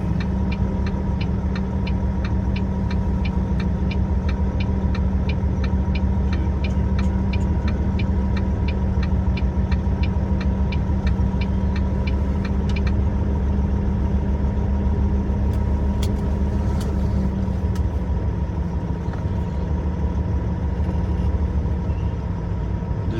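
A semi truck's diesel engine runs steadily at a loading dock while the rig backs up, a constant low rumble with faint rhythmic ticking above it and no talking.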